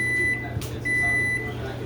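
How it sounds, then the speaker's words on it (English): A microwave oven melting butter hums steadily with a low drone and a faint high whine, interrupted briefly by a short burst partway through, at moderate level with no voices. "Microwave took about 20 seconds"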